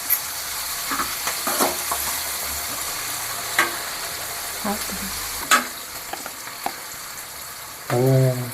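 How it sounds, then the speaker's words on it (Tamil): Onions, salted, sizzle steadily in a hot pan for Tamil kara kuzhambu, with occasional clinks and scrapes as they are stirred, and no voices. "வெங்காயம் நல்லா வதங்கி வரட்டும்"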